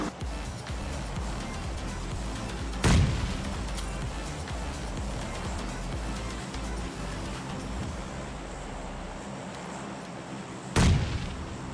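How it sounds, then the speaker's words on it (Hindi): Two grenade explosions go off several seconds apart in a shooter video game, each a loud blast over a continuous rumbling game background. "मेरे पास दो ग्रेनेड थे मैं दो तो के दो ग्रेनेड फेंक देता हूँ"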